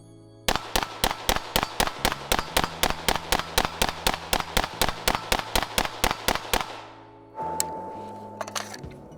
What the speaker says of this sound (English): We're now gonna shoot 25 more rounds